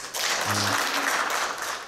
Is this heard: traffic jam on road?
no